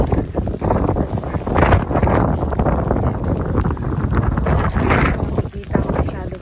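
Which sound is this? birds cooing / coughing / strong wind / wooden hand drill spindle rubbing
strong wind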